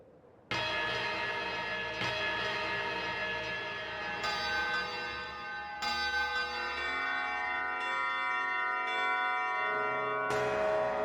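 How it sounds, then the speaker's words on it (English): The fifth bell chimes in the video game Klonoa 2: Lunatea's Veil on Switch, a loud, sustained ringing tone that repeats and swells several times over a steady sustained backdrop. "The fifth bell has rung, the bell of sorrow."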